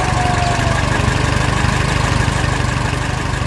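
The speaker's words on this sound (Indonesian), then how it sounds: "Gergaji mulai berputar, menghancurkan kayu yang kuat, menghasilkan suara menggelegar dan debu yang mengembang ke udara." An animated spinning saw cuts into tough wood with a loud, steady mechanical drone that holds at an even pitch and level throughout, with no talking.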